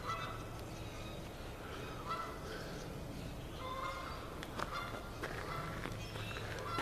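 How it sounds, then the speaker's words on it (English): Geese honking at a bird sanctuary in Kellogg, Michigan, several calls overlapping at moderate distance over a steady outdoor background, with sharper honks near the end. "Got a couple geese here."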